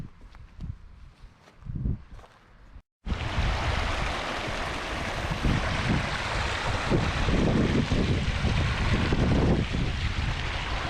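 Water trickles around rocks and drops over a small waterfall at Devil's Elbow in Glenshee, Scotland, a broad steady rush with wind buffeting the microphone, quieter and patchy at first, then full and continuous after a brief cut.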